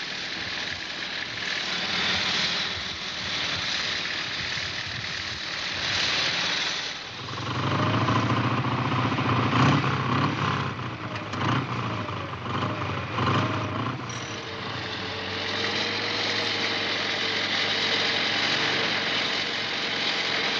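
A crowd of motorcycles at the 1970 Elephant Rally in the Eifel, Germany, rumbles steadily at idle and low revs, engines droning together with a few louder passes and revs rising over the bed of noise.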